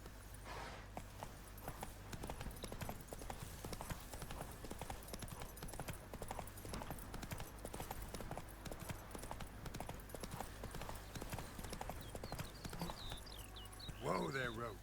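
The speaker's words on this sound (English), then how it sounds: "Whoa there, Roach." Horse hooves clip-clop steadily in the video game The Witcher 3: Wild Hunt, a quick walking beat under a spoken voice and game ambience, with a brief sharper sound near the end.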